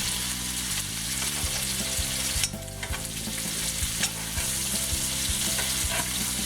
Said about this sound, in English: with a big spoon, just start spooning the butter over the top